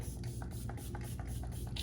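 Wet n Wild setting spray misting onto a face in a steady, fine hissing burst that runs close and continuous for about two seconds.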